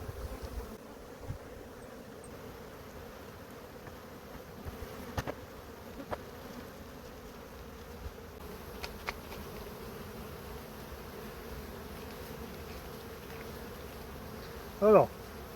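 Honeybees drone steadily at a hive entrance in winter, a continuous close insect hum with a few brief louder passes, ending in a short sharp burst near the end.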